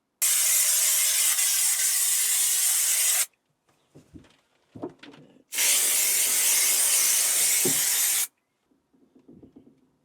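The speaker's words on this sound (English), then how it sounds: "Just realised I've sprayed the wrong side" An aerosol spray can hisses loudly in two long bursts, each about three seconds, while sound deadening and insulation go into a micro camper. Faint handling knocks and rustles fill the gaps between the sprays.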